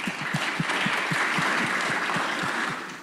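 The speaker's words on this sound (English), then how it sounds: "we appreciate the applause for her and not boos for me." Steady applause from an audience, a dense wash of clapping that holds at an even level throughout and tails off slightly at the end, with no voices over it.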